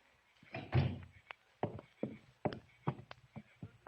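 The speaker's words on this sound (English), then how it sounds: "Doris, shut the door" A door is pushed shut in an old radio drama, giving a firm thud near the start, followed by several lighter knocks and footstep-like taps at an even pace, with no one speaking.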